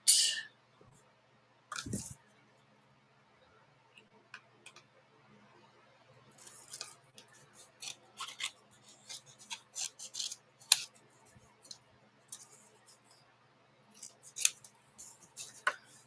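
Scissors cutting out a shape, quiet irregular snips and rasping in scattered bursts, sparse at first and then busier, with no talking.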